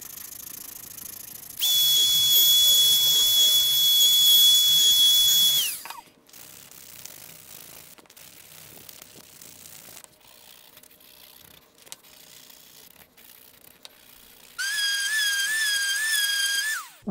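Router cutting a 1/8 inch roundover on small wooden corbel pieces, a high whining spin with two loud cutting passes separated by quieter shop handling noises.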